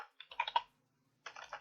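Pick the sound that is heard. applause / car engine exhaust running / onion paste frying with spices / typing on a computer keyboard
typing on a computer keyboard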